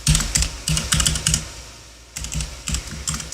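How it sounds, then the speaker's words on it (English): Password keys tapped on a computer keyboard in quick bursts of clicks, close and clear, with a brief pause between runs of typing. "hopefully I'll type the password in here correctly"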